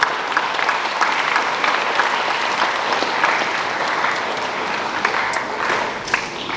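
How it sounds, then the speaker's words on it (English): Audience applause at a school high achievers assembly, a steady dense wash of many hands clapping that stays loud and even throughout, with no talking over it. "Let's give them a round of applause."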